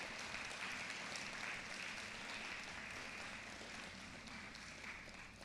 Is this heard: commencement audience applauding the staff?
yes